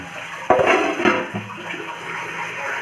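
Water poured into a pot to seal a chicken Ambur dum biryani for steaming, a sudden splash followed by a gurgling, trickling flow that fades to a quieter wash, close and moderately loud.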